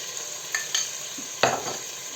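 A few scraping stirs of a spoon in a pan of carrot and onion with tomato paste, soft sizzling underneath, with a louder scrape near the middle.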